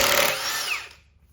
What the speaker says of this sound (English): crank bolt attempt number 1 with just the gun